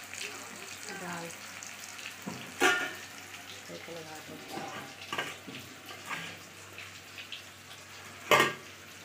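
Aloo posto, potato with poppy seeds, frying in a home kitchen pan while being stirred, with a steady soft sizzle broken by two sharper scraping clatters, and faint voices in the background.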